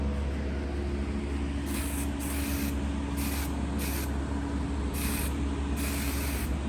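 Light coat of spray paint going onto Mazda Miata NB taillights over a black base, heard as repeated short hissing bursts of the spray can over a steady background hum, close by, no talking.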